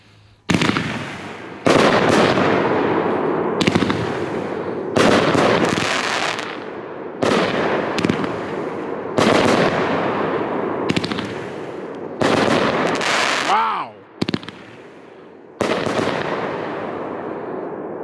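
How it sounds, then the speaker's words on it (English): A Wild Dragon Fireworks Colors of Chaos 1.4G 18-shot cake fires outdoors in a loud series of rapid crackling bursts and booming shots, several volleys separated by short gaps, with whistling between shots. "Wild Dragon Fireworks called Colors of Chaos"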